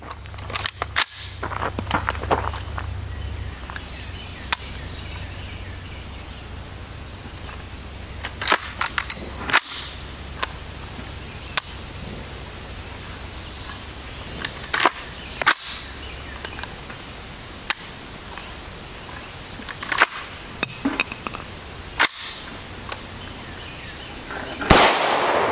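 .223 Remington steel-case 55-grain rounds fired from a 16-inch Stag rifle with a Hyperfire trigger at an outdoor range: about a dozen sharp cracks at irregular intervals over a steady background hum, with no talking.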